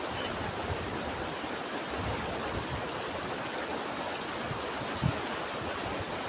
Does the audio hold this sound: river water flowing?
yes